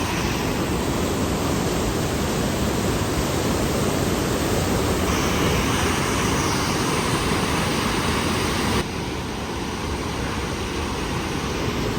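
Rushing mountain stream water of the Chychkan river beside the Osh–Bishkek road, a loud continuous broadband roar of fast-flowing water that holds steady throughout, with a slight drop in level near the end.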